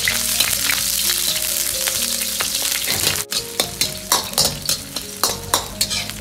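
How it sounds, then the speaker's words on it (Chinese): Ginger and scallion hit hot oil in a wok, a loud dense sizzle at first, then a brief pause followed by rhythmic spatula strokes scraping and tossing the aromatics, close with no voices. "先下入姜葱，炒出香味。"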